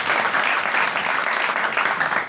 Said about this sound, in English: Big round of applause for Amory, everybody.